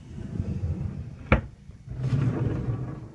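A desk drawer in a college dorm room slides and bumps with a single sharp knock in the middle, surrounded by low rumbling handling noise at close range, with no voices.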